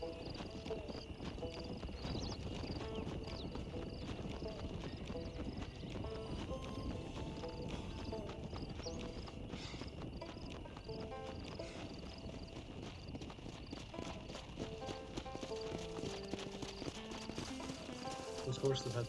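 Horse hooves clip-clop steadily at a walking pace over a low ambient bed in the video game Red Dead Redemption, with people talking intermittently over them.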